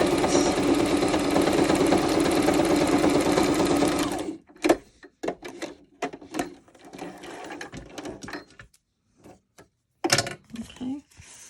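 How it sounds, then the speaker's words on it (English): Sewing machine running a straight stitch on paper, a loud, fast, steady mechanical whir for about four seconds, then stopping, followed by quieter handling clicks and rustles. "So there we go, just sewing straight on a project."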